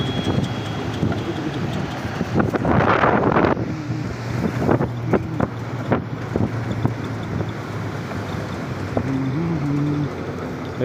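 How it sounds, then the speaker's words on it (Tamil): Mountain stream water at Sonamarg rushing and gurgling in a steady broadband wash, mixed with wind buffeting the microphone, with faint voices at the edges. "தண்ணி அப்படியே ஒழுகி ஓடுது பாருங்க."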